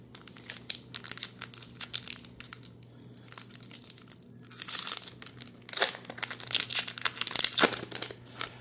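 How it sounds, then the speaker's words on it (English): Foil Pokémon TCG booster packs are torn open one after another, with crinkling, crunching wrapper noise arriving in bursts over several seconds, close and fairly loud, with no talking. "Okay, we got four packs here."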